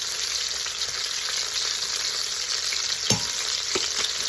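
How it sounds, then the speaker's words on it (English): Lamb searing in an Instant Pot, a steady even sizzle throughout with a couple of brief knocks or turns of the meat near the end, no talking. "our lamb is nicely seared on the outside"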